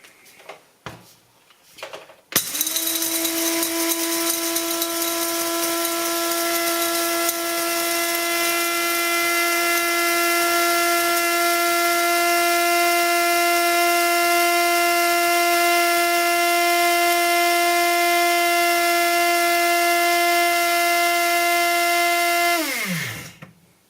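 An electric burr-style coffee grinder set for four cups whirs through coffee beans on a fine grind, starting abruptly after a brief clatter and running as a loud, steady motor whine for about twenty seconds before spinning down.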